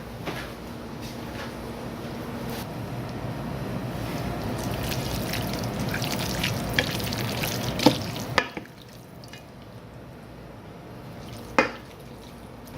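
A spoon stirs a green mixture in a bowl, a steady wet swishing and scraping that runs continuously for several seconds, then fades to quieter stirring broken by a few sharp clinks of the spoon on the bowl.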